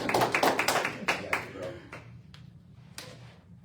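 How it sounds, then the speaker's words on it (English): One person claps a few times in a meeting room, sharp separate slaps that slow and thin out, with talk over the first part. "I got one clap"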